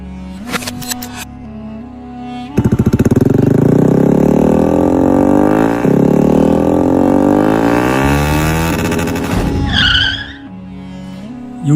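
In an Indonesian animated drama, a loud motorcycle engine roars close by and holds steady for several seconds, its pitch sliding up and down, then it cuts off, with brief high chirping after it.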